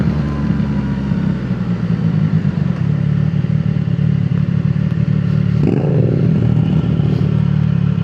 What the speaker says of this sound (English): This bike really does sound good.